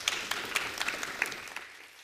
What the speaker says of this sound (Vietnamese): một tràng pháo tay nhiệt liệt cùng chào đón ạ